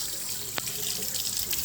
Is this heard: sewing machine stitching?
no